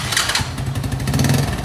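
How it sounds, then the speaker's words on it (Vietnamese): An old Korean Honda Wave ZX motorcycle starts on the first press and settles straight into a loud, close, steady low idle with a brief higher rasp at the start. "Đề một phát một và nổ liền."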